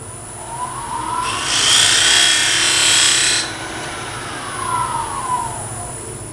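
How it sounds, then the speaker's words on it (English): A Sorby chatter tool cuts a pattern into spinning wood on a lathe, making a close, harsh rasping buzz for about two seconds over the lathe's steady hum. "This is a Sorby tool"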